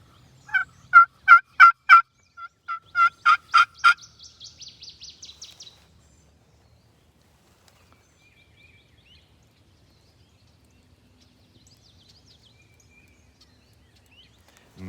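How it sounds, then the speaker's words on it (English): A wild turkey gobbles in Kentucky in a rapid rattling burst, followed by a quieter trailing gobble series, then near silence in open air. "We've been hearing gobbles."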